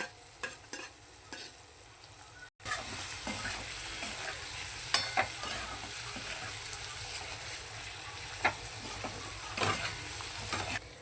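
Chopped boiled potatoes dropped into a hot pan with spices and stirred while frying, a steady close sizzle with scraping spoon strokes after an opening moment of quiet clinks.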